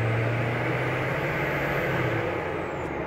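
A Duramax diesel engine in a 1984 Chevrolet C10 prerunner truck drives with a steady, loud, close rumble and a low drone throughout, carrying no speech.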